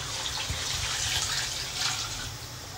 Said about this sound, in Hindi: जो पानी रखा था ना गोश्त में से जो बचा था पानी, वो पानी अब चावल डालने के बाद